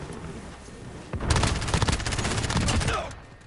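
Loud, dense automatic gunfire in Call of Duty: Modern Warfare. It breaks out suddenly after a quieter stretch, rattles hard for about two seconds in rapid overlapping shots, then fades.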